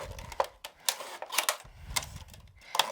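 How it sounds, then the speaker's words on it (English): Non-stick scissors cutting through plastic pieces for bubble painting, making a series of sharp, crisp snips at an uneven pace, close up with no talk. "Look how easy they cut these plastic pieces."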